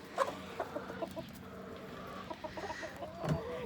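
Hens clucking in a farm chicken coop: soft, scattered clucks and short calls, fairly quiet and a little distant, coming in irregular bursts with gaps of low background between them.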